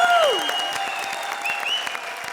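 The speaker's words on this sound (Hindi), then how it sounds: "जी के लिए जोरदार तालियां" A studio audience on a Hindi TV comedy show applauds, with scattered claps under sliding, whistle-like tonal sweeps and sustained tones. The sound starts strongest and then settles to a moderate level.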